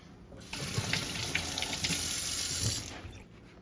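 Tap water runs steadily into a kitchen sink while eggplants are rinsed for eggplant parmesan, a close continuous splashing hiss with small bumps as the vegetables are handled, with no talking.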